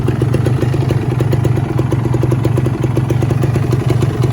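A 2015 Kawasaki Ninja R two-stroke motorcycle idles close up, its engine putting out a loud, steady, rapid pulsing hum with a light rattling clatter throughout.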